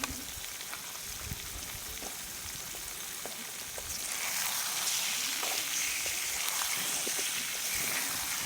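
Chicken curry bubbling in a pot over a campsite fire, a continuous close sizzle and crackle with scattered ticks that grows a little louder partway through.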